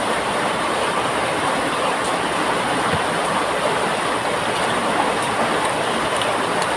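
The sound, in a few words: heavy rain during a storm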